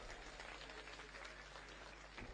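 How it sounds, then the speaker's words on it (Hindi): A crowd at a political rally, where Rahul Gandhi is welcomed in Jagdalpur, applauds in a dense, steady wash of clapping that fills the whole moment at an even level. "एक बार जोरदार ताली बजाकर"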